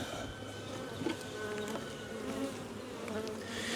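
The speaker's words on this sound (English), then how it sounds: "So the bees are still a bit defensive, as you can see them beating up on the lens." Defensive honeybees buzz around an open hive, a dense, steady droning hum with individual bees zipping close past and knocking against the lens, with no talking.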